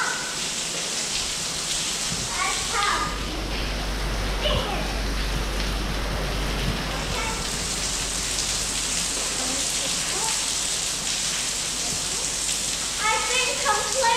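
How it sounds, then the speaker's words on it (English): Steady rain falling outdoors, a continuous close hiss of drops on surfaces with occasional louder splashes, while people talk quietly underneath. "It's just rain."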